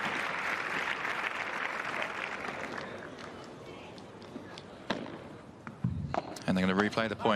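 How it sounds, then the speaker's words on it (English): A crowd breaks into applause at the start of a padel match at the Ooredoo Qatar Major semi-finals, fading out as a commentator talks, followed by thuds and scattered noise near the end. "which gets a round of applause from the crowd"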